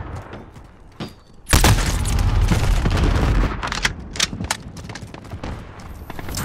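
A grenade blast in Call of Duty Modern Warfare multiplayer Hardpoint, starting with a sudden loud boom and then rattling gunfire and scattered sharp shots, with faint game voice lines around it.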